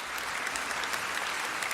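Dense applause from an audience at the Hard Facts Awards in Bayelsa State, a steady continuous wash of clapping held at an even level throughout, with no voices standing out.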